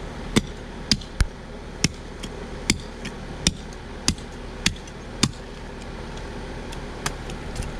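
A knife cuts through the rib bones of a smallmouth buffalo fish being cleaned, producing a series of sharp, irregular cracking knocks over about five seconds, close and distinct over a low steady background hum, then falling quiet.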